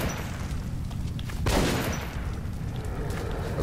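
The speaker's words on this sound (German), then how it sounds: "Also manchmal überleben die Teile einen Schuss und manchmal zwei, obwohl ich genau drauf bin." Gunfire in the video game Metro 2033 Redux, a steady dense burst of shots with one louder blast midway, sustained and close throughout with no talking.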